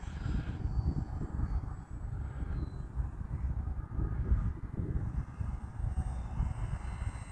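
E-flite T-28 RC model airplane flying outdoors in gusty wind: a continuous low electric motor drone at moderate distance, rising and falling slightly under rough wind noise, without talk.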